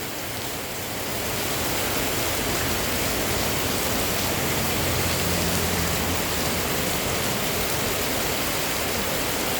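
Continuous heavy rain falls, a dense, even hiss that holds steady and loud throughout, with no voices.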